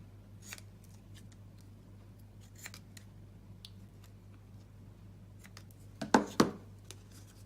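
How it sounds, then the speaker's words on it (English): Quiet snips and small handling clicks scattered throughout, then two sharp, close cuts of ribbon scissors trimming ribbon near the end against a faint steady hum. "I'm going to bring in my ribbon scissors and just cut off the excess there"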